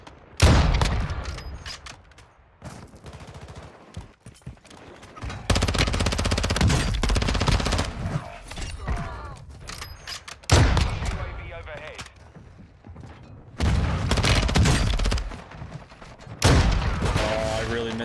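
Gunfire in Call of Duty Warzone 2 around a sniper fight, loud close bursts and crackling shots coming in several separate waves with quieter gaps between, alongside game radio callouts and a player talking.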